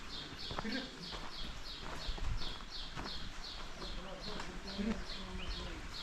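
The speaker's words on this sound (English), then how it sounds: "they're taking their donkeys along the side of there" Donkeys walk along a stream, their hooves clip-clopping in a steady, fairly faint rhythm amid outdoor noise, with birds chirping and people talking quietly.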